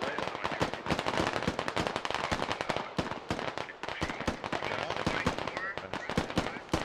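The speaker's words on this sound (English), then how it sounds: "Russians are shooting through the fence" Dense, rapid gunfire from Russian forces shooting through a fence in the Squad military shooter game, a loud crackling stream of overlapping shots with little pause throughout, with a voice talking underneath.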